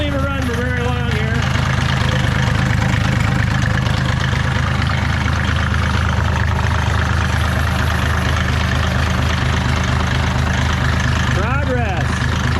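An OM606 diesel engine idles steadily after a mechanical injection pump install, a loud close rumble with a regular low clatter throughout, a voice speaking briefly over it.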